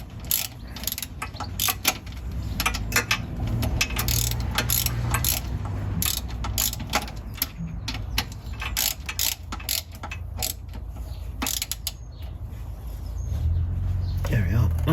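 A ratchet tightens the 14 mm transmission oil drain plug on a classic Fiat 500, producing close, rapid pawl clicking in repeated strokes throughout, with someone speaking at times.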